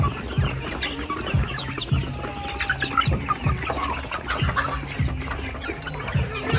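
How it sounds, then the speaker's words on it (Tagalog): Chickens cluck steadily from a flock on a farm in General Santos City as they drink, with repeated close clucks and scattered calls over a continuous busy barnyard background, no talk. "umiinom na yung iba nating mga manok"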